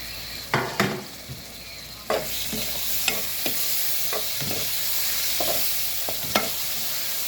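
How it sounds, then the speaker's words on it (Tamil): Onions and tomatoes sizzle steadily in a hot pan while a spatula scrapes and knocks against it at irregular intervals. "வெங்காயம் நல்லா வதங்கிட்டு தக்காளி சேர்த்துருக்காங்க"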